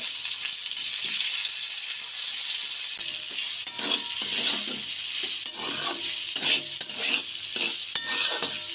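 Winter vegetables stir-frying for veg chow mein, a steady loud sizzle with repeated scraping and clinking of a spatula against the pan, no voices.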